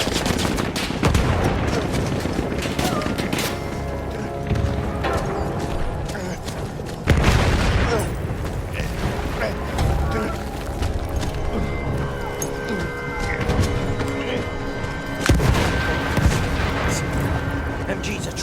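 German machine gun fire during the Battle of Normandy in a war game, a dense, loud, continuous clatter of rapid bursts with heavy booms and blasts layered throughout, with no pause.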